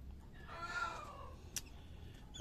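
A Serama chick gives a soft drawn-out cluck, followed by a brief sharp sound, heard faintly in a quiet setting.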